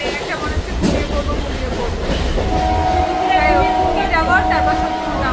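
Train in motion with a steady rumbling roar and faint clatter, carrying a few horn-like tonal whines partway through, heard from inside with some background voices.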